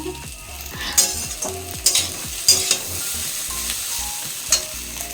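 Fried chowmein reheating in a hot pan, a steady sizzle with repeated scraping stirs and sharp utensil clicks against the metal at irregular intervals, close and fairly loud, no voices.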